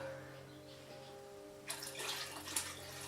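Water rushes into aquarium tanks from a hose or tap during a water change, a broad splashing gush starting abruptly partway through and continuing loudly to the end, preceded by a quiet hum.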